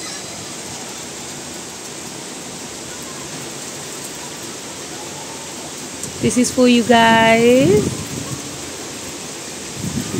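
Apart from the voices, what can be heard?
continuous rain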